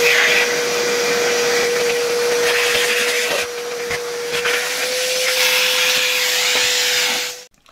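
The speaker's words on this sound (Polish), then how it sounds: "włączam odkurzacz." A 1966 Farel type 602 vacuum cleaner runs with a steady, loud motor whine and broad airy hiss, holding one constant pitch for about seven seconds before cutting off at the end.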